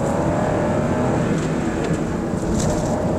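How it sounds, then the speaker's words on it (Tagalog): A 2022 Toyota Raize 1.2 E with a manual gearbox, its three-cylinder engine revving steadily as a loud, continuous drone heard from inside the cabin with no talking. "mas rinig na rinig mo yung 3-cylinder dito."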